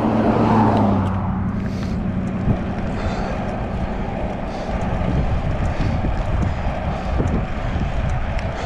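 Steady headwind roaring across the microphone on a road bike ride along a wide highway shoulder, a loud continuous rushing blast with low rumble and no clear breaks, with no voices.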